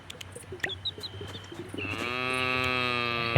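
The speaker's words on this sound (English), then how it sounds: "And that was a long moo." A cow in the video game Moonlight Peaks lets out one long, loud drawn-out moo after some soft scattered game clicks and chimes, with no talk.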